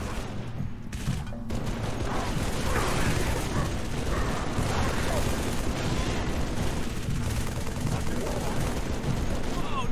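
Heavy, sustained turret and weapon fire rattles through a battle in the Halo 3 ODST video game, a loud unbroken roar of rapid shots with voices shouting over it.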